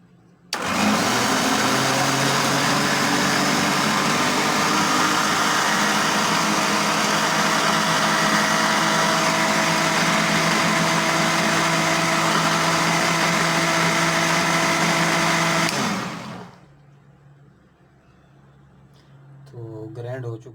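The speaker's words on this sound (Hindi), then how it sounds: "तो अब हम इसको थोड़ी देर के लिए ग्राइंड कर लेते हैं।" An electric blender grinds peaches with sugar for juice, a loud continuous motor whir running steadily for about fifteen seconds before cutting off, followed by a brief voice.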